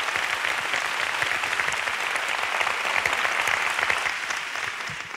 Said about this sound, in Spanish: Devuélvanselo con un aplauso, por favor,